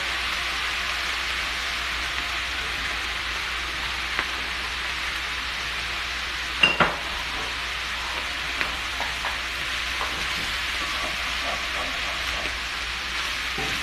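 Fried rice with Spam and salmon sizzles steadily in a pan after soy sauce and sesame oil go in, a continuous crackling hiss broken by a few small clicks near the middle.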